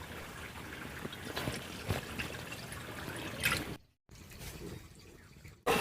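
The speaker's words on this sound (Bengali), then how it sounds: "পাঁচশো গ্রাম দুধ নিয়েছি এখন কড়ার মধ্যে দিয়ে দিচ্ছি" Five hundred grams of milk is poured into a kadai with a soft, continuous trickle and splash, close and moderately quiet, broken by a brief pause before the pouring resumes.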